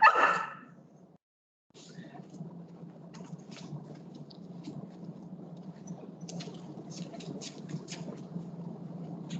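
A trained female dog gives a sharp bark right at the start, close by, followed by a short pause and then a long stretch of steady, rumbling background noise.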